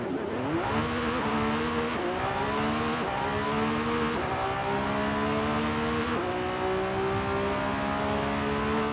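A Lamborghini Revuelto's high-revving V12 engine in Forza Horizon 5 climbs through several gears, pitch rising steadily then dropping at each shift, loud and continuous with a synthetic game-like tone.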